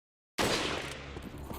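Gunfire in the video game Resident Evil 4: a sudden burst of loud, dense shots that rolls into a continuous rattling barrage, heard alone.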